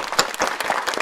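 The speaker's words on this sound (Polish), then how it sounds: "Wielkie brawo dla młodzieży!" An audience at a Polish school anniversary ceremony applauds the young people after their theatre scene, with dense, close clapping that swells in quick bursts through a brief, lively stretch.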